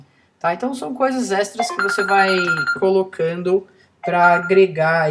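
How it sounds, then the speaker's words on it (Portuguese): A telephone rings in the background at a desk while someone speaks continuously in Portuguese over it, the ring mostly masked by his steady talk. "Desculpa o telefone tocando aqui."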